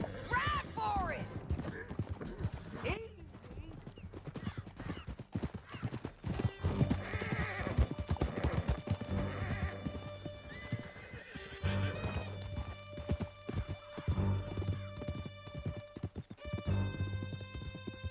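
Horses gallop through a canyon in Red Dead Redemption 2, steady clip-clop hoofbeats with neighs and whinnies under voices and a swelling musical score, sustained and fairly close throughout.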